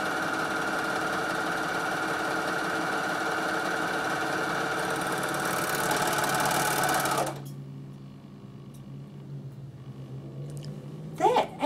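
A Bernina sewing machine stitches fabric along a marked line, running loud and steady with a fast mechanical whir for about seven seconds before stopping abruptly, followed by quiet handling noises.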